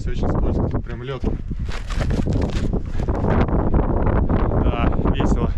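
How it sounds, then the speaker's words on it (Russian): Strong winter blizzard wind roars steadily at the microphone on an icy rock climb in the Krasnoyarsk Pillars reserve in the taiga, a loud continuous rush with someone talking over it throughout. "Тут ветер, конечно, сумасшедший. Пурга, метель."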